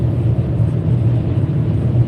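A car cruising on the road at about 80, heard from inside as a steady, loud low engine and road rumble with no breaks and no talking.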